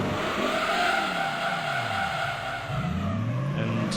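Race car tyres squeal and slide on an abrasive track in Gran Turismo 3: A-Spec, a loud, continuous wavering screech over a droning engine, with no voices.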